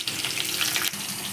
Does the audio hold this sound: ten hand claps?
no